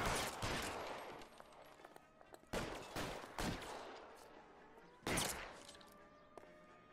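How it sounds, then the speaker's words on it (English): Gunfire from a shootout in the video game L.A. Noire, with heavy bursts of shots around the start, middle and near the end, and a busy, echoing crackle of fire in between. "I'll lay down some suppression fire."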